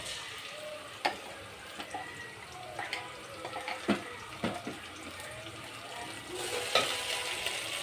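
Ginger garlic paste sizzling with fried onions in a pan, a steady close frying hiss broken by sharp stirring clatters and scrapes, with a louder burst of sizzle near the end.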